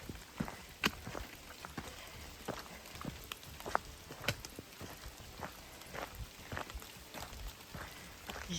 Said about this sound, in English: It's been raining for quite a while